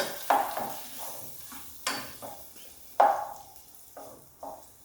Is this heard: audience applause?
no